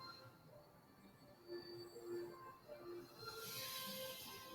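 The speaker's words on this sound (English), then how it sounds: "From outside came the sounds of hissing steam and squeaking metal." A steam train standing still gives off faint, distant hissing steam and thin squeaking metal, the hiss swelling louder toward the end over a quiet background.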